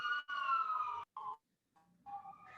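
An emergency vehicle siren wails outside, loud and close, sweeping in long tones that break off briefly and then return, with no speech over it.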